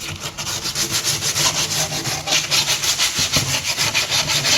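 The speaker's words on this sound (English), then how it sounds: "I then sanded all around it to get rid of all the rough edges." Wooden table edges are sanded by hand in quick, regular back-and-forth strokes that give a steady scratchy rasp, close and continuous, with nothing else heard.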